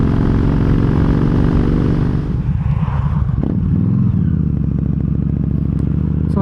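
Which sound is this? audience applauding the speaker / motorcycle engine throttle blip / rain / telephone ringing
motorcycle engine throttle blip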